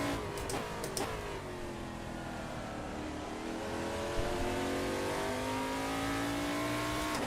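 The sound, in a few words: LMP3 race car engine in a racing video game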